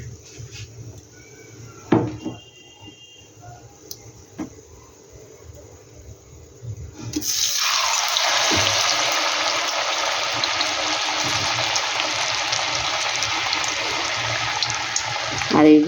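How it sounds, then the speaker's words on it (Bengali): Potato snacks go into hot oil, and a loud, steady sizzling hiss starts about halfway through and lasts to the end. Before it come quieter kitchen clatters and knocks. "একইভাবে আমি আবার সবকটা ভেজে নেব।"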